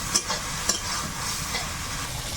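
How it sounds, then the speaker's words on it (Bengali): A spice paste cooks with a splash of water in a pan, giving a steady close sizzle with a couple of brief utensil clicks and no voices. "হালকা একটু জল দিয়ে মশলাটা কষিয়ে"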